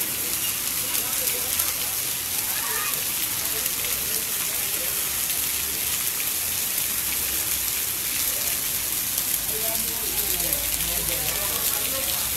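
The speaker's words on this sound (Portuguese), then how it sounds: "E a chuva tá forte!" Heavy rain pours down steadily in Acari, Rio Grande do Norte, Brazil, a dense, unbroken hiss with water running from a roof spout. Faint voices can be heard under the downpour.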